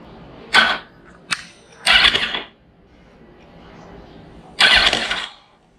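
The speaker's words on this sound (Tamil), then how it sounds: "ஏதோ சவுண்டு வருது, ஆனால் வண்டி ஸ்டார்ட் ஆகுது." A Yamaha R1 motorcycle, just fitted with a replacement starter motor, cranks in several short bursts of starter whirring and engine catching, separated by quiet gaps with a low idle-like murmur between them.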